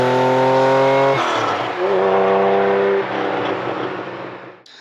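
A six-cylinder boat engine revs hard at high idle, loud and close, its steady throbbing tone rising and wavering before cutting off abruptly at the end.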